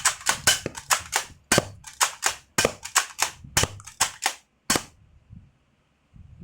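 Rapid bursts of video game gunfire from a machine gun, sharp close cracks fired in quick uneven clusters for about five seconds, then stopping to near silence.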